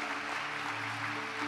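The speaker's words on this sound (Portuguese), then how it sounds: "Pode aplaudir o Senhor." A church congregation applauds during a sermon, a brief wash of clapping over a steady sustained musical tone.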